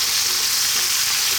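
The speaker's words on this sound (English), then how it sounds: "At this point I'm going to add in my garlic or NECH." Garlic frying with lamb in a pan over high heat gives a loud, steady, dense sizzle that runs unbroken through the whole moment.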